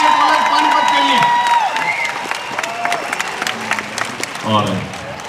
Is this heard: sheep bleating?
no